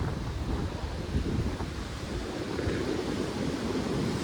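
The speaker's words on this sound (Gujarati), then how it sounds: "આ ચોમાસું કહેવાય એટલે દરિયામાં મોજા છે ને, કરંટ બહુ હોય કરંટ" Monsoon sea waves with strong currents rumble and wash continuously at the Ratneshwar Mahadev temple shore, mixed with heavy wind buffeting the microphone, loud and close with no voices.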